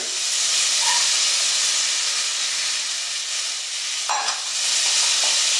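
Bacon sizzling and crisping in a pot, a loud dense hissing sizzle throughout with a brief stir or scrape partway.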